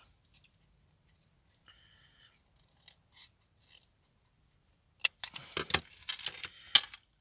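Scissors cut card pieces in half in a few quick crisp snips near the end, after a quiet stretch of faint handling noises.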